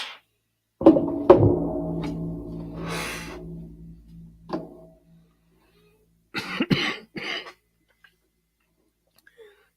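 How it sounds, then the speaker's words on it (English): A couple of sharp, close coughs followed by a trailing throat sound, then quiet with a few brief rustles and another short burst later. "Excuse the cough."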